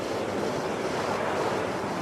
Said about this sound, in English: We see every day the waves always moving